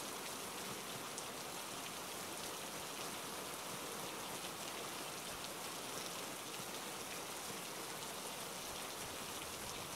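Steady rain falls in the survival video game Hurtworld, a continuous even hiss of drops on surfaces with no pauses, filling the whole scene at a constant level with no voices.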